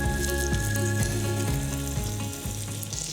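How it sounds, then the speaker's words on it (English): Cornmeal-crusted rainbow trout sears in a very hot pan, giving a loud, steady frying sizzle with faint ticking pops, continuous and close for the whole stretch with no voices. "Hear that sizzle?"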